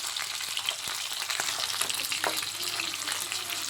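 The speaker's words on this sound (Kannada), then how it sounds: "ಇಷ್ಟನ್ನು ಚೆನ್ನಾಗಿ ಫ್ರೈ ಮಾಡಬೇಕು" Onion, tomato, cinnamon and cloves frying together with ginger and garlic, a dense continuous sizzle that stays loud and close throughout, with occasional faint stirring knocks underneath.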